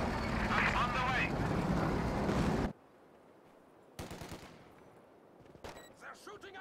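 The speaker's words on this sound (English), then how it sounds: "They're shooting at my crew." Company of Heroes 2 battle gunfire, with bursts of machine-gun fire, including an MG-42 from a bunker, rattling in rapid volleys amid game voices, then quieter gaps broken by further short bursts.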